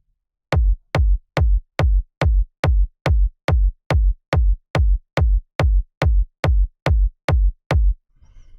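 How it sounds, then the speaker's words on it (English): A techno kick drum sample from retro sound effects, punchy and deep, hits sixteen times in a steady four-on-the-floor pulse, each thump loud and tight with a short decay, followed by a faint low rumble at the end. "The first one is the actual kick that sounds like this"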